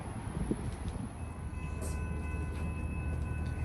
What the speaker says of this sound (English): Westbound. Here comes that train.